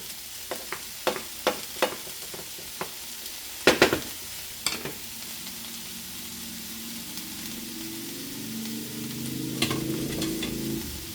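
Moose meat goulash with celery, onions and mushrooms cooking in a pan without added oil starts with a string of sharp spoon taps and clacks, then settles into a quiet, steady sizzle that swells slightly toward the end.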